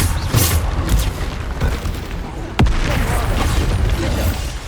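In the video game Hogwarts Legacy, the Bombarda spell sets off booming explosions: a heavy blast near the start and a sharp crack with a big boom midway, both over loud game sounds.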